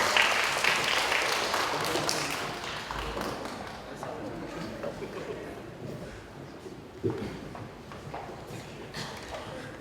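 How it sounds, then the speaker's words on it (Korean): An audience at a youth-politics group discussion event applauds, a dense, steady wash of clapping that is strongest at the start and slowly fades without stopping. "네, 한번 큰 박수로 모시겠습니다."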